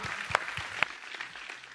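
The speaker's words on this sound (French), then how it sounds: "On peut l'applaudir, oui, vraiment." An audience applauds at an evening event on digital change, a steady patter of clapping with a few sharp louder claps standing out.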